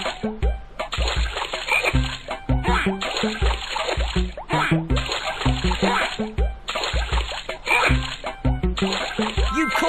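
Grumpy toads in the Dora the Explorer: Click & Create game make repeated wet, bubbly croaks and splashy plops in a rapid irregular rhythm that continues throughout, loud and close with cartoonish tone.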